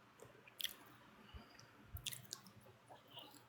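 Croquettes and spicy spiral fries being chewed close up, with a few sharp crunchy bites and soft wet squishing sounds, faint and intermittent with quiet gaps between bites, no talking.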